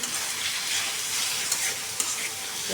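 Spices for haleem fry and get stirred in a pan, giving a continuous close hiss with a couple of sharp utensil clicks partway through.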